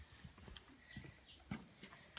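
An untied horse shifts and steps about, its hooves clopping irregularly on hard ground at moderate distance, with faint background noise between the soft, uneven footfalls.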